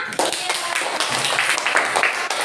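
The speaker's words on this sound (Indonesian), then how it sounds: "tepuk tangan buat semua" Students in a classroom burst into brisk group clapping after a lesson, a dense patter of many hands that stays loud and busy for a couple of seconds.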